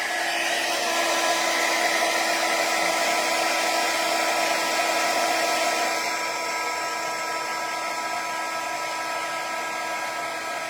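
A heat embossing tool blows hot air over embossing powder on a handmade harvest greeting card, a steady, loud whirring hum like a hair dryer running continuously throughout, slightly softening toward the end.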